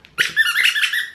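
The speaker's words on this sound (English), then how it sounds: "there's a squeaker and a tail" A squeaky plush dog toy fitted with a squeaker, squeezed in one long, loud run of repeated high-pitched squeaks, close and with no voices.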